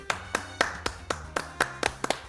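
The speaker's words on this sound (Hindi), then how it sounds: "ताली ही बजा दें" Slow, deliberate hand claps, about nine evenly spaced sharp claps from one or a few people, close and distinct with a faint tone lingering between them.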